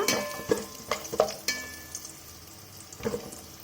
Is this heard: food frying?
yes